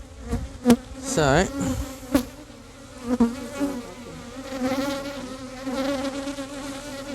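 Honeybee worker bees buzz inside a hive during re-queening, a close, steady droning hum with a few sharper bursts as bees pass near, and a brief spoken word near the start.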